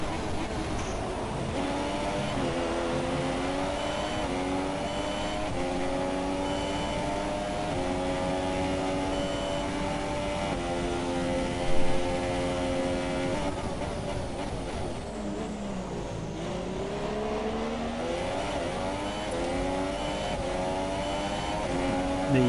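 Formula-style racing car engines in a video game race: several high, droning engine whines run continuously and loud, rising and falling in pitch through gear changes and overlapping one another.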